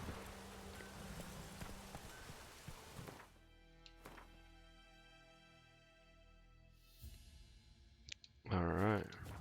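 Horse hooves in the video game The Witcher 3: Wild Hunt clop faintly under a low ambient background, followed by a louder burst of movement near the end.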